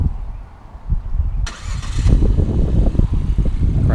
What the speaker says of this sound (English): It does have remote engine start. Lock it, push this button.